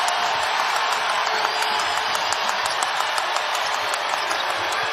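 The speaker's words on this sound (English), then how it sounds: "Iowa crowd alive." A basketball arena crowd at the 2024 NCAA women's Final Four, Iowa against UConn, roars with steady cheering and applause, a dense wash of noise sustained throughout.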